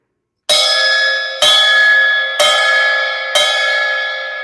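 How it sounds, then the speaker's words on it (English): Bell of a 12-inch ride cymbal from a small drum kit, struck four times at an even pace, each ping ringing bright and sustained, loud and close with no talking. "I'm gonna play the bell so you can hear it."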